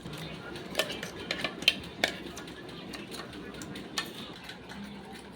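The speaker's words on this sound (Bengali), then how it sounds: "এবার ডালটাকে আমি একটা বাটির মধ্যে নিয়ে নিচ্ছি।" Coarsely ground moong dal being scraped into a bowl, with several light clinks and taps of utensil against dish scattered over a quiet kitchen background.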